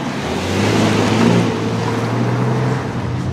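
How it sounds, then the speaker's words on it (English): An upgraded Mercedes C-Class drives the winding roads of Tenerife, heard as a continuous low engine and road rumble that swells slightly midway, steady and close, with no talking. "Driving on the windy roads of Tenerife, this car handles very, very well."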